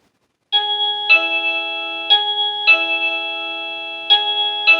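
A wireless doorbell receiver in a master bedroom chimes loudly and clearly, repeating a bright multi-tone ding-dong melody several times in quick succession with no talking.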